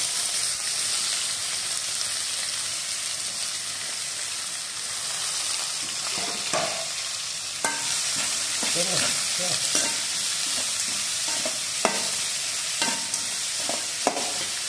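Continuous sizzling of chopped onion, curry leaves, beans and carrot frying in a pan, with occasional stirring scrapes and clinks throughout; no talking.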